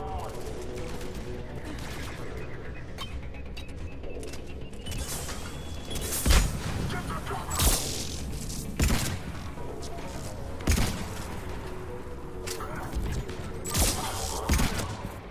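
Pistol shots in the Mass Effect video game land as several sharp, punchy cracks spaced a second or two apart over a steady bed of game music and ambience.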